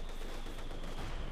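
Company of Heroes 2 battle din as a machine gun comes under bombardment from a T-45. Dense, continuous crackling gunfire and rumbling explosions fill the whole stretch.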